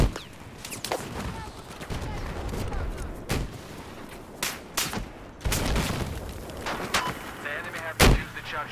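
Heavy gunfire and booming blasts in a video game battle with a tank, loud shots and explosions crashing irregularly throughout a dense, noisy mix.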